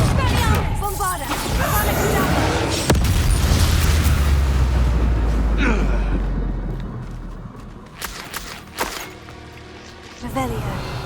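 A Bombarda explosion spell goes off in Hogwarts Legacy with a deep, rumbling boom that swells and lingers for several seconds, followed by scattered hits and bursts, with voices speaking around it.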